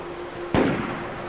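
A single sharp gunshot in a shooter video game, a close, loud crack that fades quickly.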